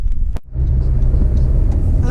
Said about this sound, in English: We got cars coming from the right.